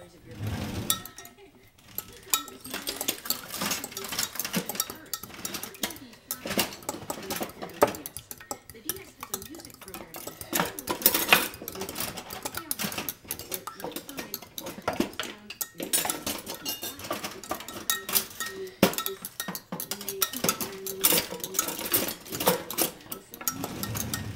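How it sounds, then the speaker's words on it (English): Eggs whisked for batter in a bowl, with dense continuous clattering and scraping that runs almost nonstop at close range, mixed with busy kitchen noise and possible faint background voices. "Let's use a whisk."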